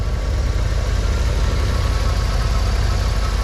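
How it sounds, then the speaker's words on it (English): A 1985 Chevrolet Camaro IROC-Z with a 5-liter tuned port injected 305 V8 idles close by, a steady low rumbling burble with even pulsing and no talk over it. "This is your 5-liter, tune port injected,"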